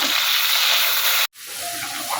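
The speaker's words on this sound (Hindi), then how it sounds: "लहसुन और अदरक का पेस्ट इसमें थोड़ा सा डालेंगे हम पानी" Water splashed into light-browned onions with garlic and ginger paste frying in a pan, a steady broad sizzle that cuts out abruptly, then returns as a softer, bubbling hiss.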